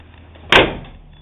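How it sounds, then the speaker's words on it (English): A truck cab door, its corner rebuilt with fresh welds, swings shut with a single solid thud that rings briefly and fades. Faint room background surrounds it, with no talking. "door shuts nice still"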